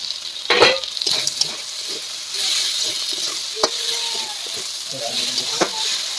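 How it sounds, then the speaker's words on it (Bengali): Snails cooking in spice paste in a pan, a continuous sizzle broken by scraping stir strokes and occasional sharp utensil clacks, close and moderately loud. "এবার শামুকগুলোকে দিয়ে ভালো করে কষিয়ে নেব"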